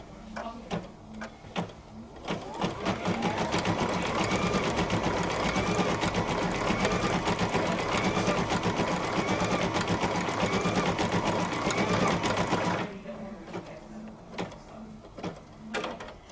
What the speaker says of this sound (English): we're going to go ahead and start our machine and do that short decorative stitch.